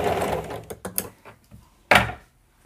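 A sewing machine stitches a newborn baby cap in a few short, close bursts of whirring mechanical stitching separated by pauses, ending with a louder final run, with no talking.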